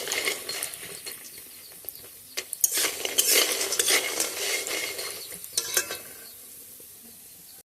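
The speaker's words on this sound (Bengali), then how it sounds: "আমি ডালের বড়িটা ভেজে নিচ্ছি" Lentil dumplings (dal bori) fry in oil while a utensil scrapes and stirs against the pan, the sizzle surging in bursts between clinks and dropping away at the very end.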